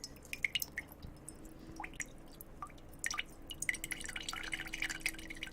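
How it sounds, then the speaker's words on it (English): Water dripping for ASMR, made with a new dripping technique: scattered close, bright drips and small wet squishes falling irregularly over a low steady hum, with no talking. "Let's try the dripping sounds. I'm trying a new method of doing dripping sounds."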